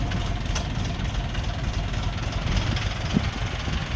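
Dongfeng 244 G2 mini tractor, a four-wheel-drive compact tractor, idling steadily with a low, even engine rumble throughout at a dealer's yard, no voices over it.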